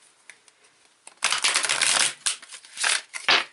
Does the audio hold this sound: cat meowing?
no